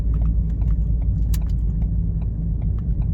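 A 2013 Ford Kuga 2.0 TDCi pulls hard through the gears under full load. A loud, steady engine and road rumble fills the cabin, with faint rattles and clicks on top.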